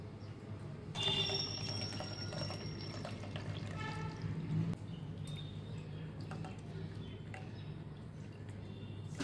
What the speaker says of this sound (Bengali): এবার পুরো দুধটা দিয়ে দেবো।